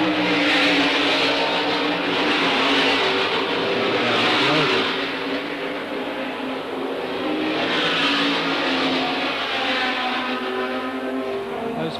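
Open-wheel race cars at the 1972 Tasman Series round on the Adelaide circuit, engines roaring loud and steady as a pack passes, the pitch swelling and fading in waves over twelve seconds, no talk.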